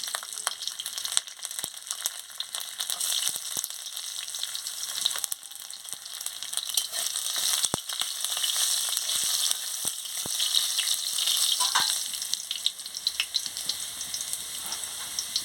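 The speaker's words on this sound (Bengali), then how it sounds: "তেলটা গরম হয়ে গেছে কালো জিরে আর শুকনা লঙ্কাটা দিয়ে দিচ্ছি এবার আমি রসুনের কুচিটা দিয়ে দিচ্ছি" Chopped garlic, nigella seeds and dry red chilies frying in hot oil give a continuous bright crackling sizzle with scattered sharp pops, close and steady for the whole stretch, with no talking.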